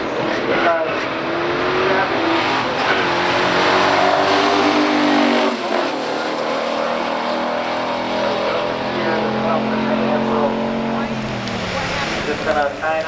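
Drag race between a 1965 Chevy Malibu and a 1969 Chevelle SS396 with a 396 engine: loud engines roar and rise through the gears with wavering pitch, heard under continuous commentary from an announcer.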